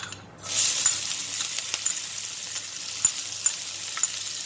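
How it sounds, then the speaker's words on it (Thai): Oil hits a hot pan with a sudden loud sizzle that settles into a steady hiss, with a few small clicks and pops over it, heard alone with no voices, while eggplant and pork stir-fry is being prepared. "ใส่น้ำมันจ้ะพี่น้องจ้า น้ำมันใส่ไปนะจ้า"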